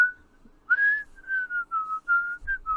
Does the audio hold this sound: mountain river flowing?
no